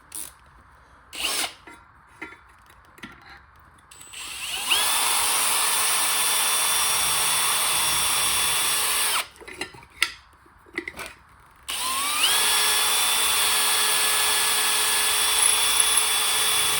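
A power drill with a sharp bit bores into car body metal during an inner sill and A-pillar repair, with two long, steady, high whining runs broken by a brief pause and faint handling noises, loud and close.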